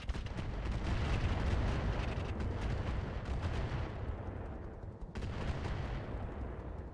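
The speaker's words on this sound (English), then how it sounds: "Now the commando is firing." Weapons fire from a Commando mech in the BattleTech RogueTech game: a dense, continuous rumble of booming shots and blasts, loud and close, with a brief dip near the end before the barrage resumes.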